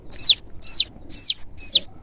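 A brown-and-yellow chick cheeps four times in a steady rhythm, each call a sharp, high, downward-sliding peep standing clearly above a quiet background.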